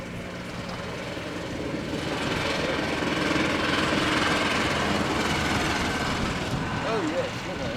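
Two Piper L-4 liaison aircraft fly past at a military air show, their light propeller engines giving a steady, moderately distant drone that swells and fades slightly.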